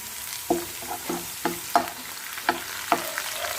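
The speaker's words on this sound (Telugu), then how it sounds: "అవి ఫ్రై అయ్యేంత వరకు వేసుకోవాలి." Green chillies, beans and curry leaves fry in hot oil, a steady sizzle broken by about eight sharp scrapes of a spoon stirring the pan at a regular pace, close by with no voices.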